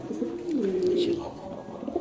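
A male long-face pigeon coos in a low, throaty rolling call, close by, with some background noise.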